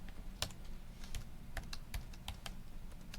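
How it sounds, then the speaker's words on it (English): Numbers are typed on a computer keyboard as a quiet, uneven run of key clicks over a low hum, close but faint, with no talk. "I can type all this in at once."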